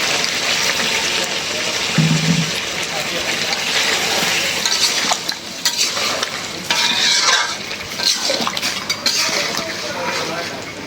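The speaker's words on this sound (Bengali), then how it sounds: "এখন সামান্য একটু পানি দিয়ে আর একটা কষারি দেব" Curry being stir-fried with potatoes, sugar, green chillies and a splash of water, steady sizzling under repeated scraping and clinking of a spoon against the pan, close and fairly loud throughout.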